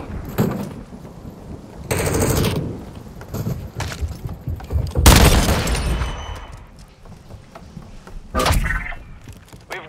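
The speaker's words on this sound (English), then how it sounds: "Taking effective fire!" Incoming gunfire during a Call of Duty Modern Warfare II Domination match, with repeated loud bursts of automatic fire and sharp shots coming in waves over rumbling background game noise.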